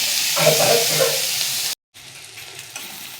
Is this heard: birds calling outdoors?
no